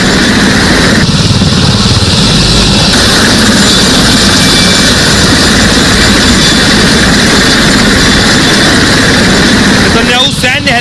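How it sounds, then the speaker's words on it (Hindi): Steady, loud, close engine roar from a military helicopter on a base, a continuous heavy drone with a whining high tone, ending in a brief rising whir. "नेतन्याहू सैन्य हेलीकॉप्टर्स के जरिए एक बेस से दूसरे बेस में जा रहे हैं"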